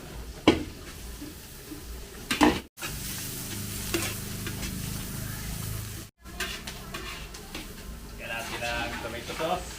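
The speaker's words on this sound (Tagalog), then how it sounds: "Ayan na, ating sibuyas. Luto-lutoin lang muna natin sibuyas." Onions sautéing in a large pan for a big fiesta batch of Filipino cooking, a steady sizzle broken by spoon stirring and scraping, with a person talking over the frying.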